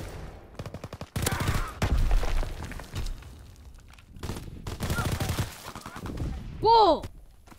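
An air strafing run in the Call of Duty WWII hardcore multiplayer game, with dense bursts of loud automatic gunfire and rattling impacts over several seconds, a short radio voice line, and a whistling, swooping flyby near the end.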